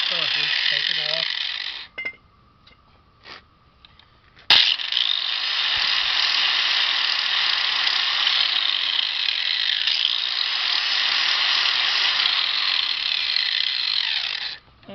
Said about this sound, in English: It's just a Harbor Freight cheapo grinder. Don't need anything special. Flap wheel works better than the solid wheel for this. It's a 60 grit.